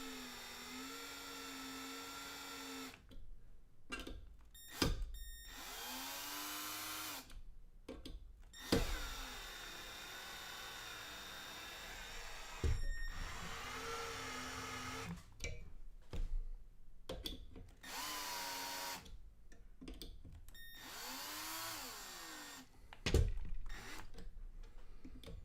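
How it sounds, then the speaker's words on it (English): An electric screwdriver drives screws into a Prusa i3 MKS+ 3D printer frame during assembly, whirring in repeated close bursts of a few seconds each, separated by short pauses. "Let's get the last few in there with the screwdriver."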